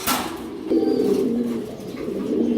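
Danish Tumbler pigeons at a fancy pigeon farm, a close soft throaty cooing that rolls on continuously, starting with a brief sharper sound and swelling in a few low, wavering phrases.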